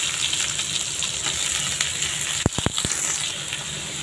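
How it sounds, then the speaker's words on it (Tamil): Chopped onions hit hot oil in a frying pan after lightly browned garlic, giving a steady loud sizzle with a few sharp clatters of a utensil near the end. "இப்போ நம்ம கட் பண்ணி வச்ச வெங்காயம் போட்டுக்கலாம்."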